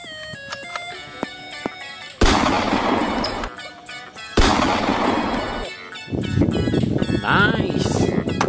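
Two loud blasts from a toy shotgun, each a harsh burst lasting about a second, amid scattered electronic beeps and tones.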